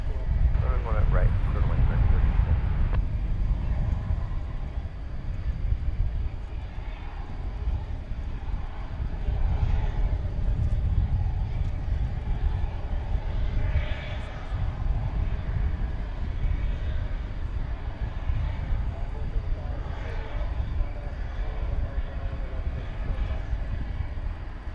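An airplane at DFW Airport, heard at night near the runway as a continuous low jet rumble that swells and fades over about 25 seconds, running beneath people talking.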